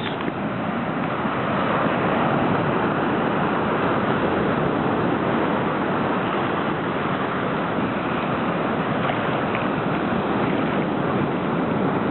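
Rough ocean surf roars continuously at Praia do Cabo do Mundo, Matosinhos, Portugal, a dense wash of crashing waves mixed with wind noise, loud and unbroken.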